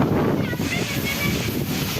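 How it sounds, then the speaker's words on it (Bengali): Storm wind blows hard through large trees in a village, a loud, steady rushing roar with gusty buffeting on the microphone throughout. "বাস্তবে দেখেন তুফান, কি পরিমাণ তুফান"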